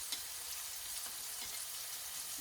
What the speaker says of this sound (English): I'm going to add my red peppers in there and just a few slices of the onion.